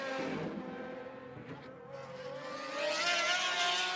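GT1 hypercars racing around the Nürburgring circuit, with a steady, fairly distant engine drone that swells into a louder, higher-pitched roar near the end as a car draws closer.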